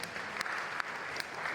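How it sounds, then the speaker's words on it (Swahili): A church congregation at a Kiswahili service claps together, a steady, dense wash of applause with a few sharper claps standing out, continuous for the whole moment and fairly close. "Tumchapieni Bwana Yesu makofi."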